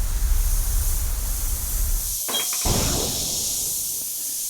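A steady, fine hiss of an Iwata airbrush spraying paint continues throughout, with a brief interruption and a couple of faint clicks midway.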